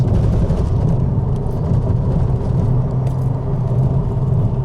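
A car engine roars loudly and steadily at high revs, up to 7,000 rpm, a constant droning rumble throughout, with no voices.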